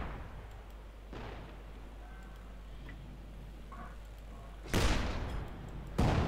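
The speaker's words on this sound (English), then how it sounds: "Bit of light shooting there." Gunfire from a Company of Heroes 2 battle: faint, scattered shots sit low under a steady ambient hum, then two loud, sharp bursts ring out near the end, a second or so apart.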